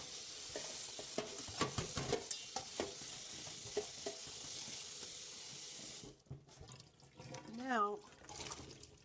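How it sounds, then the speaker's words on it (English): Cool water streams steadily from a tap over carrots, with clattering and stirring in a sink, then stops; a brief rising squeak follows near the end. "I'll quickly just run some cool water over the top."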